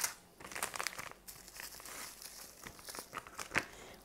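A plastic packet from an unpacked order crinkles and crackles up close as it is opened, in irregular bursts of sharp rustling with a louder snap near the end.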